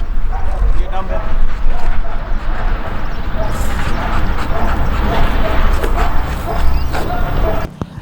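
A dog at a training academy barks and whimpers in short yips amid busy activity, with people talking and footsteps nearby throughout.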